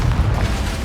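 A Confringo spell explodes in the Hogwarts Legacy video game, a short, loud, low boom with a rumbling burst.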